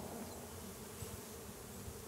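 Bees buzzing around a nuc hive, a faint, steady, continuous drone with no voices.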